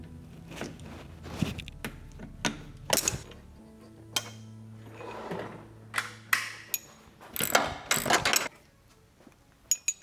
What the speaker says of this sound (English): I'm taking these little bolts off here